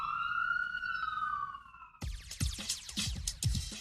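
An ambulance siren passes outside a downtown studio, about half a block from an ambulance station. Its wailing tone rises and falls clearly for about two seconds before giving way to scattered rustling and clatter nearby.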